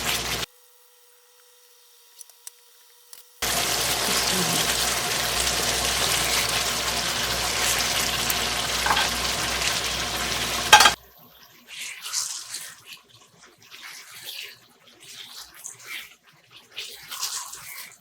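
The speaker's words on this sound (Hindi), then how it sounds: "अब इसके अंदर ऐड करेंगे कोफ्ते।" Chicken kofta meatballs drop into a sizzling curry masala in oil with green chillies, giving a loud, steady frying hiss that stops abruptly, followed by softer clinks and stirring.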